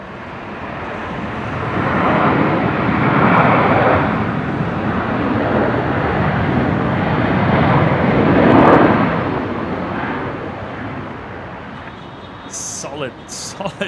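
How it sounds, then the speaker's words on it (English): A US Air Force C-17 transport lands at Brisbane International Airport, its engines in reverse thrust building to a loud, broad roar that swells and fades over several seconds, then dies away as brief radio chatter begins. "Solid reverse thrust there."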